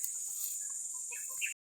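A young home-raised multicolour hen gives a few soft, short clucks, faint and close, over a steady high background hiss of insects.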